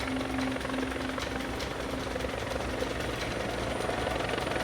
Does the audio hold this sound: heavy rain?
no